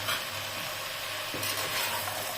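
Mixed vegetables and cashew pieces frying in a pan for pulao, stirred with continuous close sizzling and soft scraping, with no voices.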